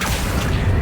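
Short loud blast from the Confringo spell in Hogwarts Legacy, a single booming explosion with rumbling low end lasting under a second.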